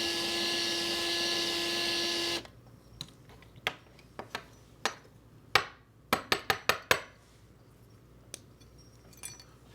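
A drill boring into a Matchbox 70B Grit Truck die-cast toy with a plain bit whines steadily for about two seconds and then stops. Scattered light clicks and taps of small metal parts follow.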